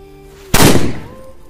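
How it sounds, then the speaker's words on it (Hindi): A Garud bomb firecracker goes off with a single loud, close blast that decays over about half a second, following a faint hissing fuse. "इसके बाद हम टेस्ट करने वाले हैं इस वाले गरुड़ बम को, तो देखते हैं ये किस तरह से जलता है।"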